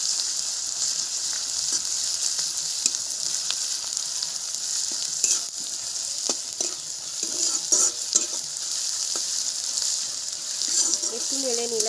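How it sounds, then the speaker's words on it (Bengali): Garlic paste fries and gets stirred in a pan for a crab dish, a continuous sizzle broken by repeated scraping clicks of the spoon at close range. "রসুনটা একটু নেড়ে নেব।"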